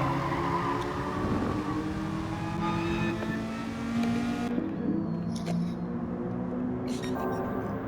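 Race cars, a Nissan GTR among them, lap the Nurburgring GP circuit in a racing video game, their engines whining and shifting pitch as they pass. The engine tones layer together at a steady level, and no one speaks.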